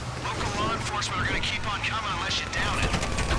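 Gunfire in the video game GTA 5 during a prison break heist setup, with sustained shooting and engine rumble mixed under steady talk from players.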